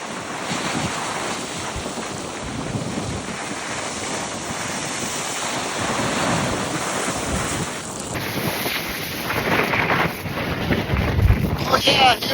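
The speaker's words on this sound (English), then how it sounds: "60-mile-an-hour winds, incredible waves" Strong storm winds of about 60 mph buffet the microphone on the rocky North Shore while heavy waves crash and surge, loud and continuous, with gusts swelling toward the end.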